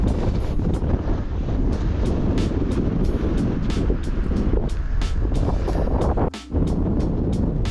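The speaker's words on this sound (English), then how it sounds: "It's very windy up here." Strong wind on an exposed hilltop on the Mendips near Rowberrow Woods during a mountain bike ride, a loud, constant roar battering the microphone, with one brief sudden drop in the noise near the end.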